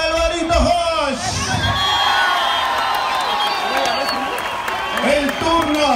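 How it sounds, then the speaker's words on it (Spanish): Crowd at a velodrome track cycling event cheering and whooping for a cyclist, with shouts and scattered applause forming a loud, lively roar, voices rising and falling over it. "Fuerte el aplauso para Alvarito Hosch."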